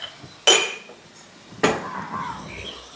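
Metal spatula scraping and clanking twice in a pan while vegetables are mixed with pepper and salt, two sharp close knocks at the start and middle, then softer stirring scrapes.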